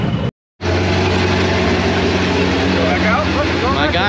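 A car engine fitted with a ProCharger supercharger runs loud and steady at close range, broken by a brief dropout near the start, with a rising whine and a voice faintly present beneath.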